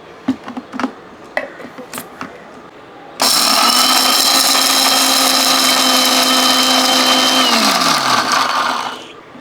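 A kitchen mixer grinder whirs loud and steady for about six seconds, grinding dried red chillies with cumin seeds for rasam, then winds down; a few soft clicks and knocks come just before it starts.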